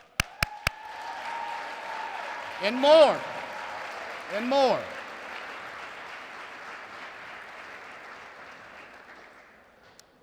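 Audience applause at a Black History Month celebration at Macedonia Missionary Baptist Church, a soft, sustained wash of clapping that rises under loud, booming speech with a few sharp taps at the start and slowly fades away.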